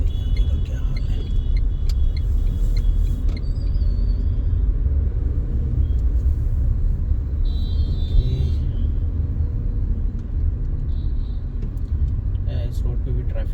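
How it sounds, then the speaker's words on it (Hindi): Moving road traffic on a street in Whitefield, Bangalore, a steady low rumble of passing cars heard from inside a vehicle, with occasional brief horn toots and someone talking over it. "इस रोड पे भी ट्रैफिक है, बट मूविंग ट्रैफिक है"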